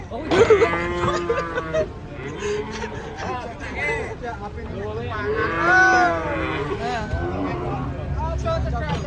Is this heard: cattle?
yes